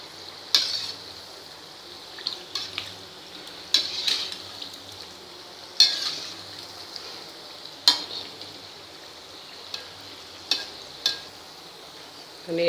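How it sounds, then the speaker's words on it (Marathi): Sweet bhaji frying in hot oil on medium heat, a soft continuous sizzle broken by repeated scraping and clinking stirs against the pan every second or two, no talk. "असे सतत असे हलवत राहायचे, म्हणजे ते सगळीकडे सारखे तळले जातात."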